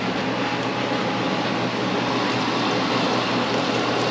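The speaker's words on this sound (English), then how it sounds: "We gotta let some of that steam escape off." Steam escapes from a pan of roasted bones being checked for a bone stock, a loud, steady, even hiss that stays close and unchanging throughout.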